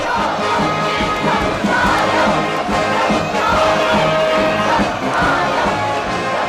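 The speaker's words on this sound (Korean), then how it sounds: "우러러 격정의 환호를 터쳐 올리었습니다" A large crowd cheers and shouts at a state visit by Xi Jinping to North Korea, a loud, continuous roar of massed voices rising and falling in waves.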